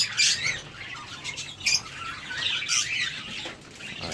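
Lovebirds in an aviary, including lutino, Fischer's and blue personata birds, give quiet, bright chirps and squeaky calls in scattered bursts, with faint wing flutters among them.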